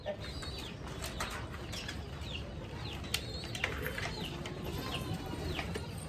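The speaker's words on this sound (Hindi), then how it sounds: "देखिए पूरे कबूतर उड़ने वाले दिख रहे हैं हमको" Pigeons in a dusty loft near the Pakistani border, with soft cooing, scattered wing flaps and a few sharp bird calls over a constant low rumble, moderately faint and continuous.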